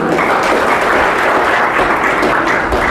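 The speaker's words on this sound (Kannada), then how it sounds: "ಒಂದ್ಸಲಿ ಜೋರಾಗಿ ಚಪ್ಪಾಳೆ ತಟ್ಟೋಣ" A seated audience at a Basavanna devotional discourse breaks into loud, dense applause, many hands clapping steadily and evenly throughout, with no voices over it.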